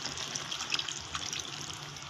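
A cup of water splashes and gushes into a pot of simmering chicken feet adobo, a short, close, continuous pour with no talking.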